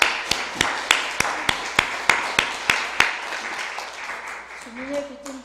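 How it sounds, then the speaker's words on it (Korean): A church congregation claps in a slow, even rhythm during a worship service, a dozen sharp, evenly spaced claps that soften and give way to a brief voice at the end. "박수하겠습니다."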